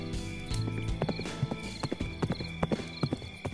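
Hooves of a white horse clip-clop in a cartoon folk tale, a quick run of sharp knocking steps with a neigh woven in, fairly close and clear over a soft musical background.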